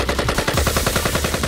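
Rapid automatic gunfire from the visual novel I/O rattles in tight, evenly spaced bursts, loud and close, with no voices over it.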